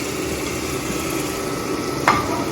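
Cooked ramen noodles tossed in a pan of soy sauce, brown sugar and crushed pepper give a continuous close sizzle with soft stirring, plus one brief sharp clink near the end.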